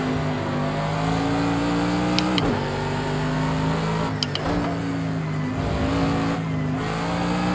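A Formula 1 car engine in the racing game Project Cars 2 drones loudly and steadily at high revs, with brief gear-shift dips and clicks breaking the tone a few times.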